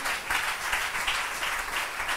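Congregation in a church applauding steadily, a dense wash of many hands clapping at moderate volume throughout, with no voices standing out.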